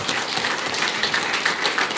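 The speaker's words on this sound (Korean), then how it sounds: "우리 박수 한번 보내드리죠." Audience applause at an inauguration ceremony for a youth association's new president, a dense steady wash of many hands clapping throughout, fairly loud and even with no voices over it.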